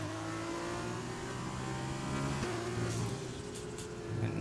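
Formula 2 race car engine from the F1 2020 game at the Bahrain circuit, a steady high-pitched whine holding near and loud for the whole stretch, with shifting harmonics as it revs through gears and no talk over it.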